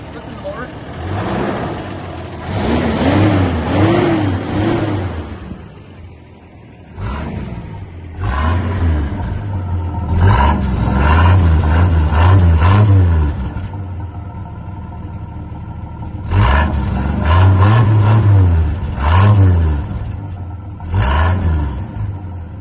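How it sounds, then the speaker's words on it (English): A Toyota FJ45 pickup truck's engine revs in bursts, rising and falling several times close by, with people talking over and between the revs. "You want to get inside and listen to the motor?"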